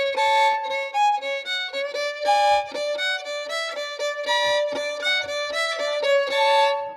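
A bowed string instrument in a Celtic orchestra rehearsal plays a phrase of clear sustained double stops, with tied notes held long and several bow changes, heard close with no talking.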